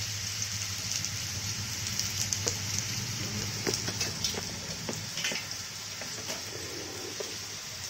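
Potatoes frying in a pan for sabudana khichdi give a steady, quiet sizzle with faint crackles and pops, heard close with no talk over it.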